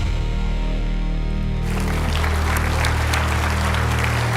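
An audience at a flight simulation expo breaks into loud, sustained applause as a presenter walks on stage, a dense wash of clapping that swells and holds steady throughout.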